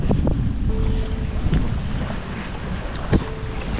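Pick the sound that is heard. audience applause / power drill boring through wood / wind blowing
wind blowing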